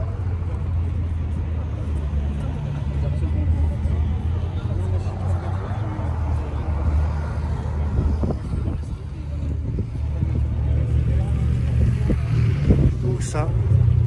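Rat rod car engine revving outdoors, a loud low rumble rising and falling over several throttle blips, with wind buffeting the microphone and people talking nearby.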